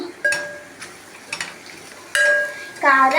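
Chili powder is stirred into ivy gourd curry in a pan, with a spoon scraping and clinking against the metal. The strokes come in a few separate bursts, with a faint sizzle underneath.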